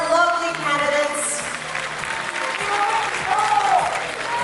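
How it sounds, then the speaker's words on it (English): An audience applauds pageant candidates at an international beauty pageant's top 10 announcement, with loud, steady clapping from a large crowd that carries on throughout, cheers mixed in. "big round of applause to our lovely candidates"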